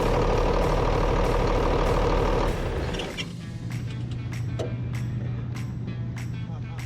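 A John Deere 4840 tractor with next to no oil pressure runs steadily, a loud low engine drone that shifts to a deeper, steadier idle hum partway through, with faint clicks and rattles over it.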